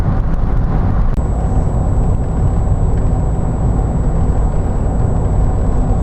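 A new car cruising on a highway between New Mexico and Texas, a steady, loud interior rumble of engine and road noise that holds constant throughout with a faint high whine joining partway.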